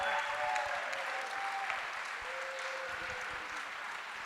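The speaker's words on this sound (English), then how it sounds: "All right, keep clapping." An audience at a talks event keeps up steady, dense applause with continuous clapping throughout.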